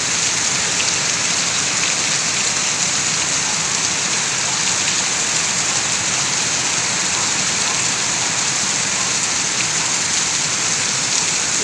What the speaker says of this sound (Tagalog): malakas ang patak ng ulan oh